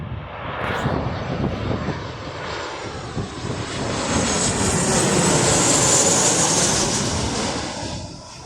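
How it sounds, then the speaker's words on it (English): A Ryanair Boeing 737 jet passes overhead, a loud broad roar with a high whine that swells toward the middle and end, nearby and continuous over several seconds of blustery wind. "Oh, it's a 737 Ryanair."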